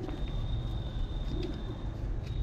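Pigeon cooing from a pure white Punjaban hen pigeon kept by a fancier, a few soft low coos close by over steady background noise.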